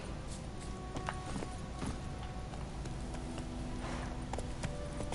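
Geralt's horse Roach trots along in The Witcher 3, hooves beating a steady clip-clop rhythm at moderate loudness over a soft game ambience, with no one talking.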